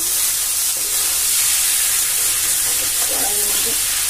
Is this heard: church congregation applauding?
no